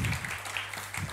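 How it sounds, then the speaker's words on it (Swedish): An audience claps for a speaker at a Swedish cultural-policy event, a brief patter of applause at moderate volume, fading slightly midway before swelling again. "Tack, och vi ger dig applåden."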